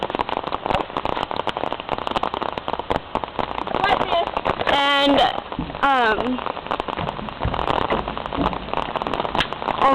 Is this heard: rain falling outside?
yes